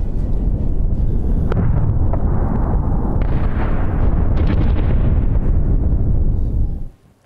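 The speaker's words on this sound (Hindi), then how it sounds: "लगातार हो रहे धमाकों की आवाज तो आपने सुनी है," Continuous explosions in Gaza form a dense, unbroken roar of booms and rumbling for about seven seconds before cutting off abruptly.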